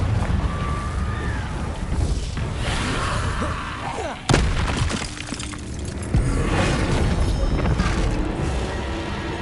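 Explosive Bombarda spell blasts in the Hogwarts Legacy video game, with a sharp loud crack near four seconds and another around six, over a dense, rumbling game soundscape of impacts and whooshes.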